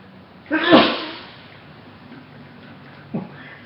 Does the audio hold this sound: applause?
no